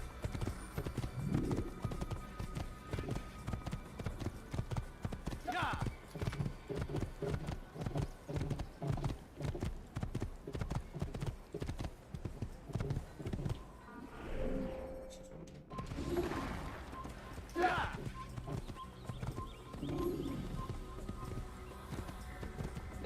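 A horse gallops in Assassin's Creed, with steady, rapid clip-clop hoofbeats running throughout and a couple of brief whinnies partway through, no talking.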